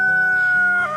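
A lone young hen on a small Midwest farmstead gives a loud, drawn-out tonal call close by, one sustained note with a slight drop at the end.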